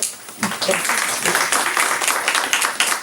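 An indoor audience at a women's event at a flour mill in Ireland breaks into applause, dense steady clapping from many hands lasting a few seconds, with some voices mixed in.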